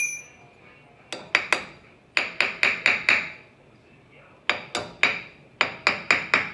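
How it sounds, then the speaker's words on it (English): A hammer strikes a chisel set on the lip of a 2015 Toyota Tundra front hub, producing sharp metallic rings in quick clusters of two to five blows, separated by brief pauses, close and loud. "You put your chisel right on that lip, and it just like that."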